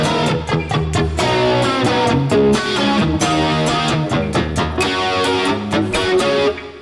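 Electric guitar through a distortion pedal with the gain pushed higher, strumming loud, dense, fuzzy chords in a steady rhythm, close up and continuous.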